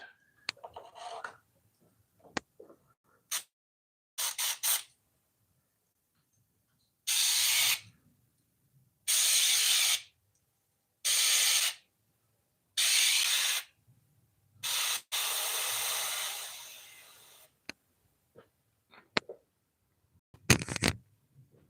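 Black spray paint hisses from a can over a stencilled pattern, in several separate bursts of one to two seconds each, with quiet gaps and faint handling noises between them.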